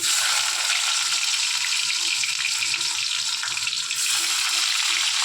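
Chopped garlic and onion frying in a pan, a loud, steady bright sizzle with a faint stirring rattle underneath, continuous throughout.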